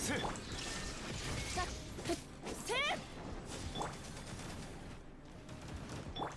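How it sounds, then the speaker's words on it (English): Enemy firing missiles in Genshin Impact, a series of quick whooshing shots and impacts scattered under game music and someone talking over them. "Stop shooting missiles!"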